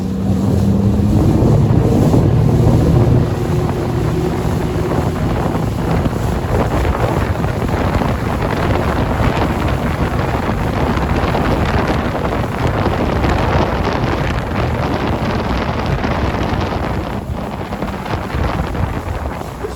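Loud wind buffeting the microphone over a lake, a steady roaring rush with a low engine-like rumble beneath, continuous throughout with no voices.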